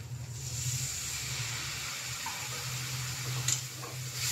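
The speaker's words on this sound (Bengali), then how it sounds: "অল্প একটু জল দিয়ে দিচ্ছে।" A little water added to frying spices with turmeric and chili powder in a pan, producing a quiet, steady hiss and splutter with a low hum underneath and a brief sharper crackle near the end.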